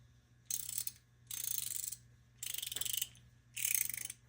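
Four bursts of rapid ratcheting clicks from the 6-point ratcheting mechanism of a chrome vanadium Anbull flex head ratcheting tube wrench, each lasting about half a second to a second, close and fairly loud with short pauses between.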